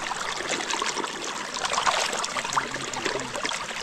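Water trickles steadily while vegetable plants are watered outdoors, a close, continuous splashing dribble with no pause across the whole stretch.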